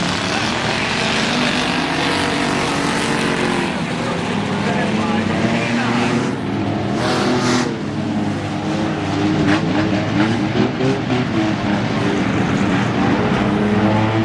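Race cars at Langley Speedway in a Day of Destruction event, a steady loud roar of engines racing under the green flag, with a commentator talking over it throughout.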